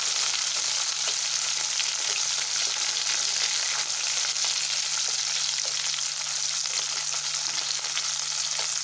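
Curry leaves and green chillies sauté in hot oil in a pan, giving a dense continuous frying crackle with a faint steady hum underneath, close and even throughout, no speech.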